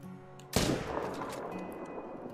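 A single sharp rifle shot fired at a grizzly bear in the hunting game theHunter: Call of the Wild cracks out loudly after a quiet lead-in, followed by a long rolling echo that fades slowly.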